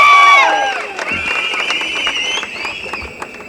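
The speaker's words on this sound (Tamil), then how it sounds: "இந்த கைத்தட்டெல்லாம் பத்தாது அந்த மனுஷனுக்கு, அண்ணன் தாமு" Crowd at a political meeting in Tamil Nadu cheering and clapping, a dense burst of shouts and applause that starts loud and gradually thins over a few seconds.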